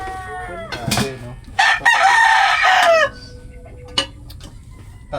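A rooster near a rural hut lets out one loud, close crow with its long drawn-out call, and chickens cluck around it before and after. A few sharp knocks punctuate the steady farmyard background.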